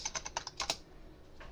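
Fingers tap rapidly on a computer keyboard, a quick burst of about eight close keystrokes that stops abruptly, leaving quiet room tone with no talking.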